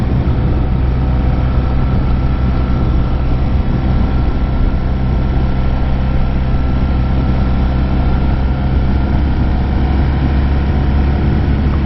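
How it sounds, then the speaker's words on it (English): Inside a Shoei RF 1200 motorcycle helmet on a moving bike, constant loud wind roar and engine drone fill the clip, with a steady whistling tone running through it and no pauses. "Sorry for the whistling noise from this Shoei RF 1200"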